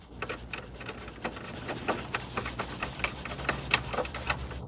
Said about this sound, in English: Carefully tighten the screw again using a screwdriver.